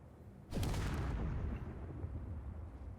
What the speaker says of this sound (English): I'll bring you back and show you that explosion.